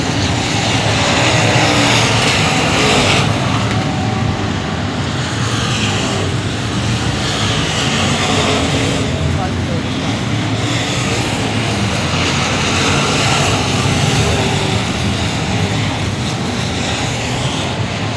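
Race cars lapping at Cotton Bowl Speedway during the Showdown, a continuous loud roar of several engines droning past without a break, rising and falling slightly throughout with no talk.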